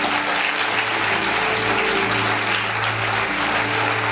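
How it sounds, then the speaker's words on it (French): A church congregation applauding their pastor, a steady, loud wash of clapping from many hands that fills the whole stretch, with a low sustained tone underneath. "Est-ce qu'on peut acclamer pour lui?"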